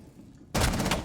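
A burst of gunfire erupts suddenly and loudly midway in a competitive tactical shooter match, a dense rapid volley scoring a headshot.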